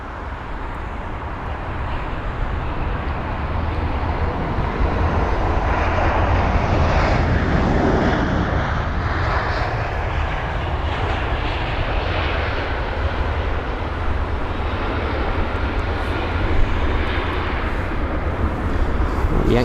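A British Airways A319 arrives at London Heathrow, landing from Olbia, with a loud, close jet roar that builds and then holds as a broad, sustained rush. No one talks over it.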